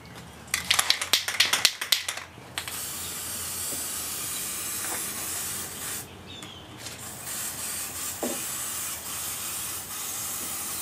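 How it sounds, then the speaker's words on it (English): An aerosol can of spray glue made for foam fires several short sharp hissing bursts up close, followed by quieter intermittent spraying and faint handling noises, with no talking. "take some spray glue in this can aerosol made for foam and put these two pieces back together"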